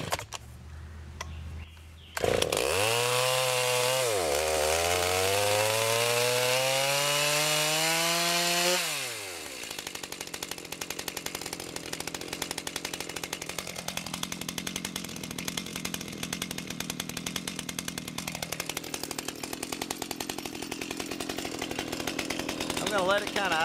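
A Stihl MS290 chainsaw fitted with an MS390 engine starts with a loud pull, revs high for several seconds, then settles to a steady idle broken by two throttle blips, close and continuous.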